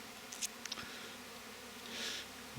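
Honey bees buzzing in May, a soft continuous insect drone with a few faint clicks and a swelling hum as one passes close, no voices.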